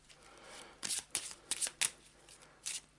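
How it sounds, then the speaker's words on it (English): A deck of Eldritch Horror Tokyo encounter cards is shuffled by hand at a tabletop, several quick crisp riffling bursts close up, with no talk during the shuffle. "Quick shuffle."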